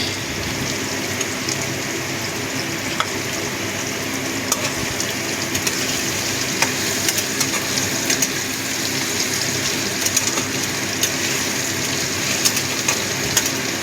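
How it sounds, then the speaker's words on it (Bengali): Onions and potatoes sautéing together in a pan while chicken curry is cooked at home, giving a steady, close sizzling hiss with faint crackles and no talk throughout. "এই যে পেঁয়াজ আর আলুটা একসঙ্গে সাতলানো হয়ে যাবে।"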